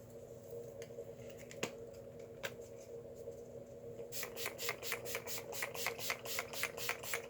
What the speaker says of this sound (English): So I'm going to spray and fan.